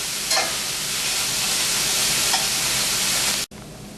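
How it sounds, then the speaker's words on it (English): Ground turkey and onions sauteing in a pan as stuffed peppers are made, a steady close sizzle and hiss with faint stirring scrapes, cutting off abruptly near the end. "Frying the onions, but sauteing the onions with the turkey here."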